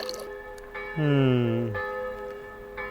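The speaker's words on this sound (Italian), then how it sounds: "Che campane." Faint, sustained church bell tones hum in the background in Cervo, Italia, at the end of summer, while a short gliding vocal sound rises over them partway through.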